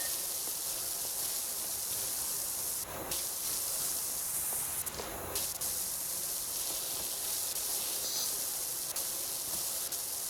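A pressure washer in PowerWash Simulator 2 sprays as a continuous loud hiss, steady and close, with a couple of brief interruptions partway through.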